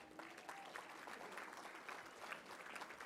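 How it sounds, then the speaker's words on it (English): A crowd applauds steadily at a touchdown club meeting, a dense, even clatter of clapping that holds for the whole few seconds at a moderate distance. "We can give a round of applause for that."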